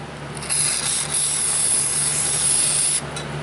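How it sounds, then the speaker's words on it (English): Lube sprayed from an aerosol can onto the parking brake actuator of a Hyundai Sonata's rear disc brake, a sustained close hiss lasting about two and a half seconds with a brief pause midway. "let's apply a little bit of lube to this parking brake actuator"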